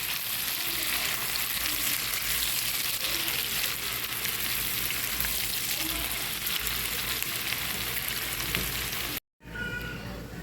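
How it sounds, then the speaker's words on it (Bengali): Steady, dense sizzle of onions frying until brown in a frying pan for hilsa fish dopiaza, continuous and fairly loud, with a brief cut near the end. "একটু বাদামি করে ভেজে নেব"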